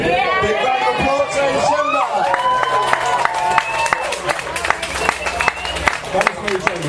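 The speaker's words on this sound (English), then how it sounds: "Big round of applause" Wedding reception guests give the best man a round of applause, a spread of clapping and some cheering from a room of people, mixed with overlapping voices and chatter.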